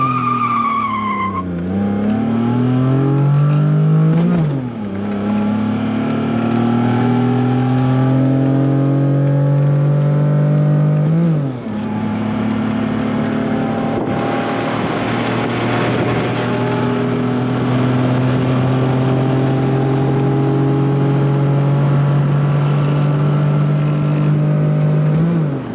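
A cheap, rough Pontiac Firebird engine is held at high revs during flat shifts. Its loud, strained roar climbs, dips sharply at quick gear changes a few seconds apart, then climbs again and holds a sustained howl, with no talking.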